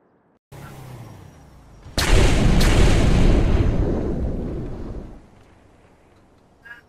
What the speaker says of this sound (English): trying to figure out what that explosion was